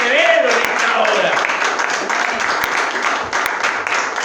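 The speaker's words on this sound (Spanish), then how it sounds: "yo le daría un fuerte aplauso" A church congregation breaks into strong, sustained applause that fills the room, after a voice briefly speaks at the start.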